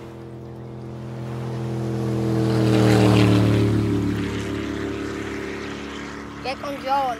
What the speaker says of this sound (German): da sind sie ja endlich mit dem Boot